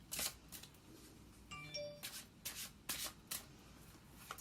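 Tarot cards shuffled by hand in a series of close, papery riffling bursts, broken by a brief high metallic ringing partway through.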